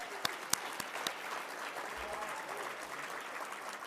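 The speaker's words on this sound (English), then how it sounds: "Let's give a round of applause for our gold sponsors." Applause for sponsors at the Canadian Cinema Editors awards ceremony, a faint, distant, even patter of clapping with a few sharper close claps near the start.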